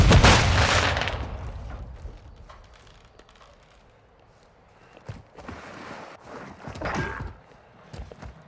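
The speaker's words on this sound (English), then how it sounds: "Throwing flash grenade!" Flash grenade going off in Call of Duty Modern Warfare 3 during a prison rescue mission, a loud sharp burst at the start fading into a quieter stretch, followed by scattered gunfire and movement.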